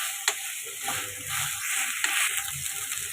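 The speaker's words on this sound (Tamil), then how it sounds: "இது ஒரு ஹை ஃப்ளேமில் ஒரு 5 மினிட்ஸ் டாஸ் பண்ணணும்" Soya chunks stir fried on high flame hiss and sizzle steadily in the pan, with a few sharp clinks and scrapes of stirring cutting through the continuous frying noise.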